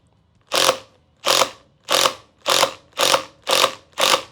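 A Makita impact driver drives a self-tapping screw without a pilot hole in seven evenly spaced bursts of whirring, each about half a second long, loud and close with no talking.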